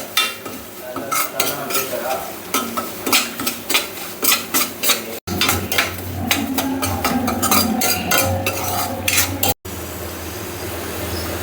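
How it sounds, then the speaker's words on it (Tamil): Semolina roasting in ghee over a slow flame for Chettinad ukkarai, a ladle scraping and stirring in quick rhythmic strokes against the pan over a light sizzle, close up and steady with no talk. "இப்போ பாருங்கள், நல்லா நெய்யிலே இந்த ரவை நல்லா வறுத்தாச்சு"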